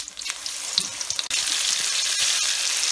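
Besan-battered potato chops deep-fry in hot oil with a dense, steady sizzle and crackle, close and continuous, briefly interrupted by a short drop before the bubbling hiss resumes.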